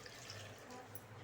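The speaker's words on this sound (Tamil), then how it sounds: "நல்லா கலக்கி விட்டு நல்லா ஒரு சொம்பு தண்ணி ஊற்றிடுங்க." Water is poured into a pot of sambar for a short moment, a faint steady splashing and trickling pour heard up close.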